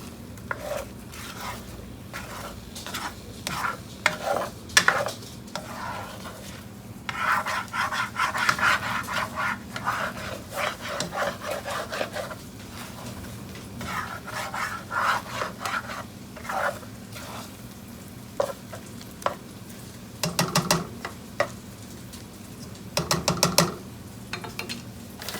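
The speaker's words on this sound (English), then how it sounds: "I'm going to sprinkle on some cheese. Kind of mix it in a bit." A utensil stirs cheese into food in a pan on a stove turned down to low, making repeated scraping and rubbing strokes in uneven bursts over a faint background hum.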